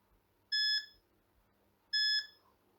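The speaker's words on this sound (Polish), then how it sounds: "Wyłączymy sobie sygnał dźwiękowy." A navigation program on a screen gives two short, clean electronic beeps about a second and a half apart, each a bright tonal chirp over a near-silent background.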